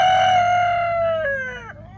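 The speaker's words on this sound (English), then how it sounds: "Big Boy is one of our roosters." A pet rooster gives one loud, close cock-a-doodle-doo, a long sustained crow that falls in pitch and breaks at the end, with no talk over it.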